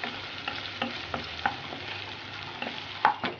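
Chopped tomato and onion sizzle and fry in a pan with intermittent stirring scrapes, a steady close crackle with no talking.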